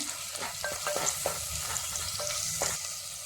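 Onions sautéing in ghee in a pan for a herbal leaf soup, a soft steady sizzle with scattered scraping stirs of a spoon, fairly quiet and close, no voices.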